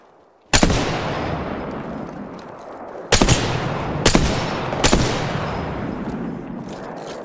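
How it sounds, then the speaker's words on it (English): Gunfire in Apex Legends: a loud opening shot, then three more heavy single shots spaced about a second apart, each with a long ringing decay, with no talk. "Opening fire on the enemy."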